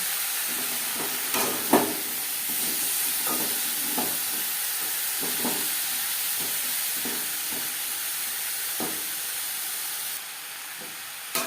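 Eggplant frying in a pan with browned onions, a steady loud sizzle and hiss throughout with occasional soft stirring scrapes.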